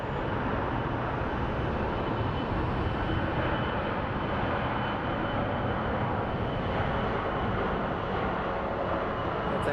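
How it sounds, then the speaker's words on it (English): A Delta Air Lines Airbus A321 bound for Detroit roars at Phoenix Sky Harbor, its jet engines producing a loud, sustained wideband roar with no talking over it. "And this Delta Airlines is headed to Detroit."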